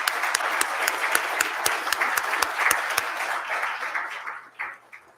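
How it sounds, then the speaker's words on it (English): A breakfast audience at a school district Red Ribbon event applauds poster-contest winners, a brisk round of clapping that holds steady, then tapers off and ends with a few scattered claps. "Let's give them another round of applause."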